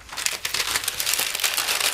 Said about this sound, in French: c'est une simple feuille de papier sulfurisé, de papier cuisson